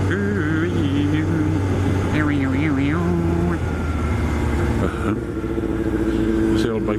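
Old bikers' motorcycles ride past near Cardiff Airport, a loud continuous engine drone with shifting pitch as they go by, and a voice talks over the noise.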